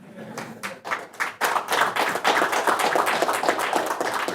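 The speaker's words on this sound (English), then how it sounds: "if you're going to clap, you should do it now" An audience claps in a quick, continuous patter of many hands, building after a few scattered claps and holding steady, fairly loud and close.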